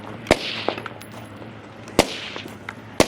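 Rifle rounds striking steel targets at an outdoor shooting stage, three sharp ringing impacts spaced about a second apart over a steady low background hum, with no talking.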